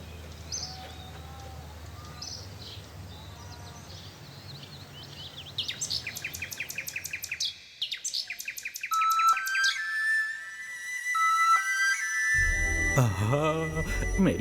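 A bulbul sings in a folk-tale setting with bright, rapid chirps and rising trills, clear and fairly close, followed by sweeping melodic whistles over a soft background bed.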